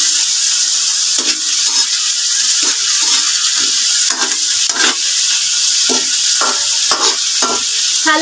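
Vegetables are stirred in a hot cooking pan, crackling with a loud, steady sizzle and hiss while a spatula scrapes and knocks against the pan in repeated strokes.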